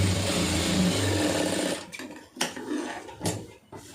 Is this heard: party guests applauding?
no